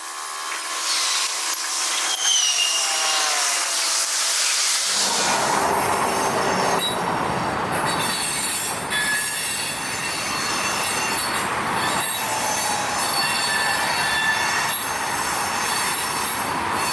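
A long BNSF freight train hauled by ten locomotives, including an SD40-2 and a GP60, passes near Tulsa; loud close wheel squeal and screeching over rolling rumble and clatter throughout, no speech.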